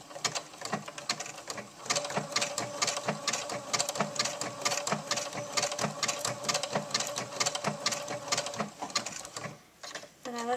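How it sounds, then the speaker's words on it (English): A sewing machine stitches down the center of a strip of Velcro with a steady, rapid mechanical chatter close by that runs for several seconds before slowing and stopping near the end. "I drop my needle in, and I start to sew. And I'm going down the center of this Velcro."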